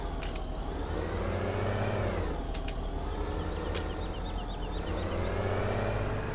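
A tractor engine in Farming Simulator 17, pulling a seed drill, drones steadily at an even idle-like rumble throughout, with a few brief clanks over the top.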